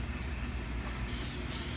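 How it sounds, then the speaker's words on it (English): Cooking spray hisses onto a sheet of parchment paper in a single steady burst lasting under a second, close and fairly loud, with low background rumble and no talking. "I take a piece of parchment paper and I spray it."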